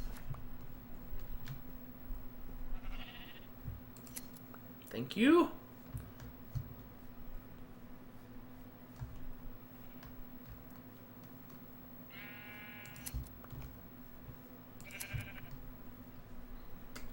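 A black sheep in Minecraft bleats while being sheared for wool, a few short, distinct bleats spaced over several seconds amid soft clicking, with a person speaking briefly in between.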